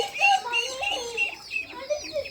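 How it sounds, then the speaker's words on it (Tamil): Small chicks at a zoo in Yelagiri cheep and peep in quick, high overlapping calls, steady and fairly close, with no talking over them. "கோழி குஞ்சுங்கெல்லாம் சூப்பராக இருக்குது பாருங்கள்"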